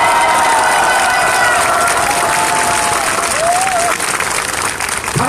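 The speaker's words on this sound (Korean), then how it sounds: "큰 박수!" Loud, sustained applause from a large crowd at a protest rally of over a thousand people, mixed with some cheering and whistling, continuous throughout and easing slightly near the end.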